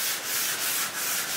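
Wood coated with sanding sealer being sanded by hand in rhythmic back-and-forth strokes, a close, bright scratchy rasp repeating about three times a second.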